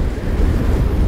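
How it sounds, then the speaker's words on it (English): Strong mountain wind at about 4,000 metres on Mount Elbrus buffets the microphone in a brief, loud, low rumbling roar. "Very, very windy."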